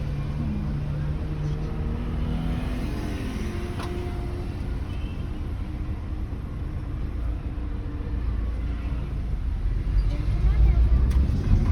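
A Hyundai i20 engine hums low and steady at half clutch during a driving lesson, with the drone swelling slightly louder near the end.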